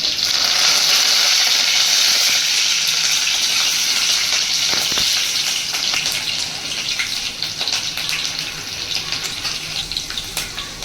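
Loud, steady sizzle of onion frying in hot oil, a bright hiss that eases slightly over time, with no speech.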